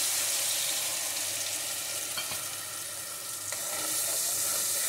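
Ginger-garlic paste frying in a pan for a hilsa fish and eggplant dish gives a steady, close, continuous sizzle with faint stirring scrapes, no voices.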